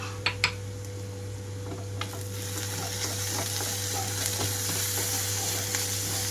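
Ginger garlic paste, with salt and turmeric, frying in a pan over a low flame for an egg pepper curry: a steady close sizzle with a low hum, plus a few light clinks early on.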